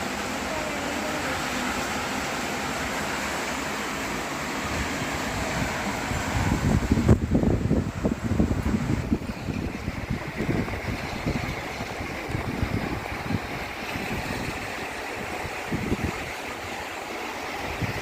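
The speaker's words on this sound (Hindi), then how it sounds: "इतनी तेज हवा है कि मैं क्या बोलूं, मतलब कपड़े उपड़े सब उड़ रहे हैं।" Strong wind blows hard outside during Mumbai monsoon rain, a loud continuous roaring rush with heavier gusts buffeting the microphone midway, while someone speaks under it.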